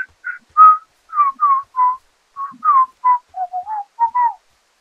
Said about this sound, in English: Yeah, I can whistle. I just did that to show off a little bit